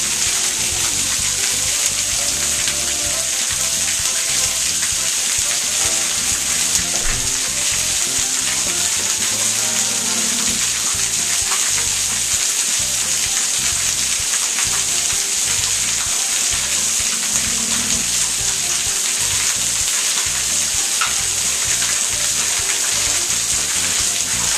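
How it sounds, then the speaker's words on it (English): Heavy rain falls steadily in a dense, even hiss of countless drops drumming on a surface, loud and close and unbroken for the whole stretch, with no talking. "Check out this rain."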